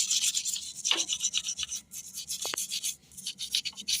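A brush scrubs motorcycle clutch parts clean with petrol in a series of close, uneven bristle strokes, with no talking.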